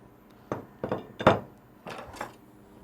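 Whole butter dropped into a cooking pan for pumpkin soup, heard as a series of five light metallic clinks and knocks, spaced unevenly, close and fairly quiet, with no talking.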